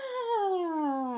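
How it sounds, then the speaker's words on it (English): A pet cat meows once, a single long, drawn-out meow that slides gradually downward in pitch, close and clear with nothing else behind it. "That's my cat."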